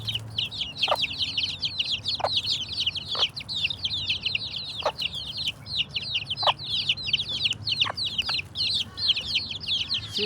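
A hen on an organic chicken farm clucks softly and repeatedly while feeding her chicks on mustard plants, with a steady chorus of high chick peeping throughout and a low farm hum underneath.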